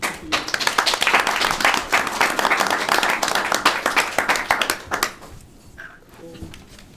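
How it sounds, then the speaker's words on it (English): Audience at a county board of commissioners meeting giving a round of applause, brisk close clapping from a modest group that thins out and fades after about five seconds, leaving quieter room sound with a few voices. "Another round of applause."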